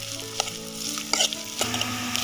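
Chopped onions go into garlic frying in hot oil, a brief burst of close sizzling with a few quick spatula clicks and stirring scrapes.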